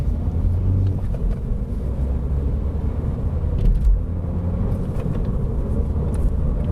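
A Mini F56 Cooper S turbo engine with a Stage 1 tune accelerating on a hot day, a steady loud low rumble with road and wind noise heard from inside the car, no talk.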